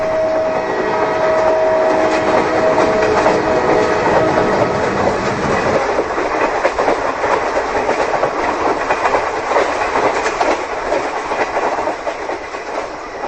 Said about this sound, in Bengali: দূর থেকে ট্রেনের শব্দ ভেসে আসছে। হ্যাঁ, ট্রেন আসছে